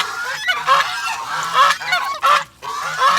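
A flock of geese on a farm honk loudly and continuously, close by, with overlapping calls and a brief pause near the end, alone with no talk.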